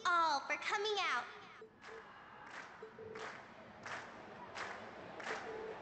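A crowd at a performance in the Cold Steel video game cheers. Loud voices open the clip, then rhythmic crowd shouts come in five evenly spaced bursts, each softer than the first.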